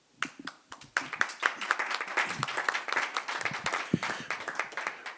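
Audience applause at a peace culture forum, a dense crowd clapping that starts softly and swells after a second into steady, sustained clapping with sharp individual claps standing out.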